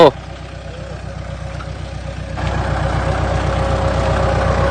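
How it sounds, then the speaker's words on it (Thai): A ride-on tractor engine idles at about 1000 rpm with a loud, close, steady low rumble and even pulsing chug. It grows somewhat louder partway through, and a voice briefly talks over it. "รอบเครื่องหนึ่งพันรอบ"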